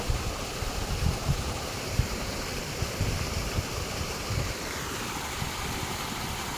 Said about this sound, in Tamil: தண்ணி ஓடுதா